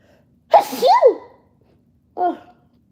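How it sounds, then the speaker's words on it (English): One sharp, close sneeze bursts out loudly, and a shorter, softer exhale follows after a brief pause, with quiet surroundings. "Hold on, I gotta sneeze."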